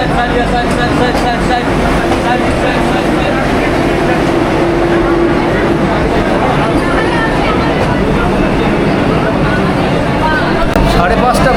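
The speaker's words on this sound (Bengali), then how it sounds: "আমাদের ট্রেন এখন ঢুকে গেছে" A Vande Bharat express pulls into a station platform, a loud, steady rail rumble and rattle that runs throughout beneath nearby chatter.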